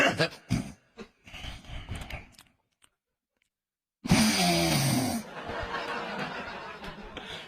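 A man imitates loud snoring with his voice: after a short silence comes one harsh, rasping snore of about a second that trails into a long noisy breath, with chatter and laughter before and after.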